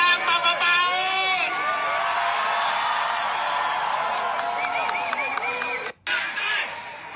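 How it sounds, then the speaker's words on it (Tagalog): A large outdoor political crowd chants and cheers for ex-president Duterte, known as Tatay Digong, a dense roar of many voices with rhythmic shouts and whoops, loud and close throughout, briefly dipping before swelling again. "seeing this crowd chanting the name of Tatay Digong"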